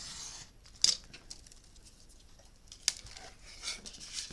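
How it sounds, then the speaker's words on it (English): Scissors trimming a crooked edge off notebook paper for a hardcover journal, two crisp, close snips separated by quiet rustling. "Just trim the crooked bit off."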